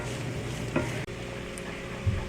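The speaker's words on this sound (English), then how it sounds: "Now I will add the finely chopped onions and we will fry the onions till they caramelize and turn light brown." Finely chopped onions sizzle and fry in a pan, a steady soft crackle broken by a stir or clink.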